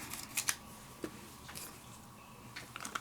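Quiet, close snips of scissors cutting paper, a few sharp clicks scattered across a soft, near-silent background.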